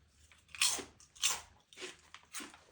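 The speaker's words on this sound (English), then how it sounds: "Let's hear that crunch." Corn-flavored chips crunched bite by bite, four close, loud crisp crunches spaced about half a second apart with nothing else in between.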